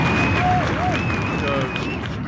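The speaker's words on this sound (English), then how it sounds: "I need some applause." Audience applause and crowd noise at a comedy show, steady clapping mixed with cheering and whistles, fairly loud throughout.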